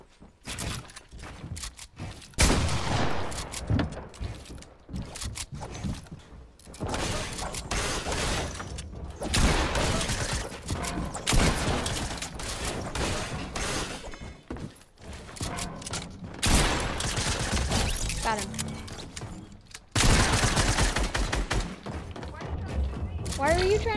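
PlayStation 4 game gunfire, bursts of rapid shots with mechanical clanks and thuds, loud stretches broken by brief gaps, while voices talk at times over the action.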